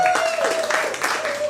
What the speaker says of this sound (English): let's hear a round of applause for Mary O'Connor.